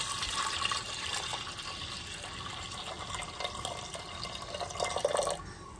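Water poured into a pressure cooker of lentils seasoned with salt and turmeric for sambar, a steady splashing trickle running alone at moderate level before stopping near the end.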